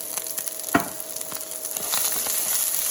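Cauliflower fries in a little olive oil in a pan, a close, even sizzle and crackle with one brief knock partway through.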